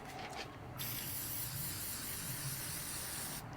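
Rust converting paint sprays steadily from an aerosol can in a close, continuous hiss that runs almost the whole time, with a brief quiet gap at the start and another near the end.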